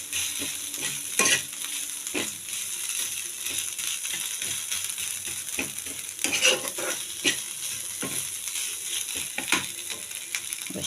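Potato masala stirred and fried in a pan on the stove, a steady sizzle with repeated scraping and stirring strokes and occasional utensil knocks, fairly close and without talk.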